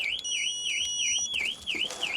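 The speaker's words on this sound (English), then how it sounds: "The alarm's gonna go crazy." A car alarm sounds steadily and loudly at close range, a rising and falling electronic wail repeating in even cycles, with clicks and handling noise partway through.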